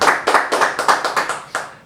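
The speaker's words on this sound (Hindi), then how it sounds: "जोरदार तालियां, बहुत बढ़िया बहुत।" Loud, close hand clapping for a guest on a talk show, a series of about seven sharp, evenly spaced claps that thin out toward the end, with no talking.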